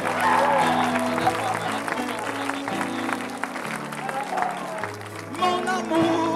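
A church congregation cheers and claps for Jesus at a healing service, with sustained applause and shouts under a loud sung or chanted voice.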